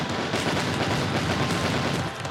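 Rapid, dense gunfire from the video game Stick Fight rattles continuously at high volume, a steady barrage of overlapping shots with no clear gaps and no talking.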